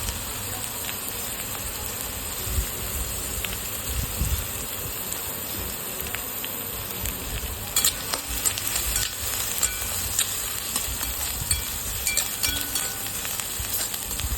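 Green chillies frying with onions in oil for masala Maggi, giving a continuous soft sizzle with occasional stirring clicks, close and even throughout.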